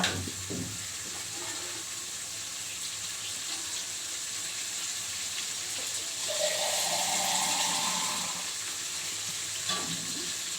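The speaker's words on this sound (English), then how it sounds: "Now I will add some water." Water pours into a cooking pan of fish, potato, cauliflower and tomatoes, a steady rushing splash with sizzling under it, strongest in the middle stretch, close and moderately loud.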